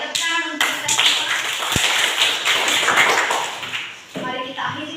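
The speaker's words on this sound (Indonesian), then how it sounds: "tepuk untuk kita semua" Applause from a group of students and a teacher in a classroom, a dense burst of clapping lasting several seconds before fading, with voices underneath.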